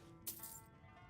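A handful of gold coins clinks once in Skyrim as payment is made, a brief bright jingle that fades quickly against a quiet background.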